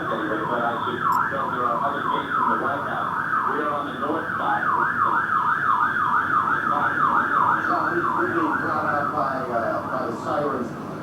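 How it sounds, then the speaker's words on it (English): Wailing emergency sirens cycle up and down continuously, fairly close, with voices talking underneath, in New York at the World Trade Center. "sirens"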